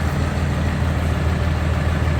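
A Cummins diesel engine swapped from a 5.9 to a 6.7, installed in a truck, idles steadily with a deep low rumble, loud and close, with no revving.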